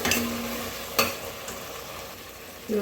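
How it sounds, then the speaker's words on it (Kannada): Chopped onion and tomato sizzle in a hot pan while a spoon scrapes and stirs through them, a few sharp clinks standing out over the steady frying hiss. "ಇದೆಲ್ಲವನ್ನು ಎರಡು ನಿಮಿಷದಷ್ಟು ಚೆನ್ನಾಗಿ ಮಿಕ್ಸ್ ಮಾಡೋಣ ಇದು ಫ್ರೈ ಆಗಬೇಕು ಈರುಳ್ಳಿ ಮತ್ತು ಟೊಮಾಟೊ"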